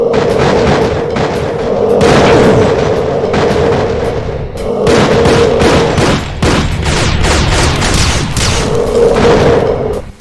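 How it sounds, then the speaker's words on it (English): Heavy video game weapon fire from commando zombies in a Doom mod: dense volleys of mini rockets, plasma shots, railgun blasts and shotgun bursts, loud and continuous with booming, crackling barrages. "They can fire rapid-fire volley of dual mini rockets, with some that home in, dual fusion plasma shots, dual railguns, and dual assault shotgun shots."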